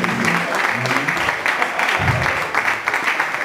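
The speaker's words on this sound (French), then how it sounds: "You can give big applause to God" A church congregation applauds, loud sustained clapping filling the hall with voices and cheering mixed in underneath.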